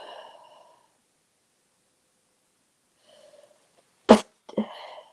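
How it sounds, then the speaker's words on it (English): A single sharp sneeze bursts out loud and close after a quiet stretch, followed by a brief sniff and breath, with a person talking before and after it. "I've got a sneeze coming."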